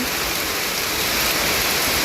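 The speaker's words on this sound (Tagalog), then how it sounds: "medyo malakas yung ulan" Dense, steady rain pours down in a continuous wash of hiss, loud and close, with no other sounds.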